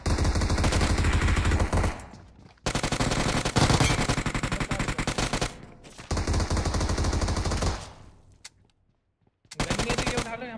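Loud automatic gunfire from a close-range gunfight in BGMI comes in long sustained bursts separated by short silent gaps, with a final burst after a brief lull.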